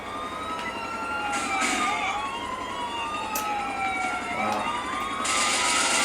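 Several police car sirens wail in the video game GTA 4, overlapping rising and falling tones sweeping back and forth, fairly loud with engine rumble and brief bursts of noise beneath.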